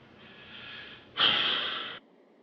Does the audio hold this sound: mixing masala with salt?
no